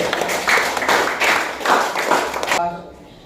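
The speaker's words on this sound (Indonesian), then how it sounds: "tepuk tangan untuk kita semua." A group claps together in a classroom lesson, loose irregular bursts over about two and a half seconds before stopping abruptly, followed by a quieter tail.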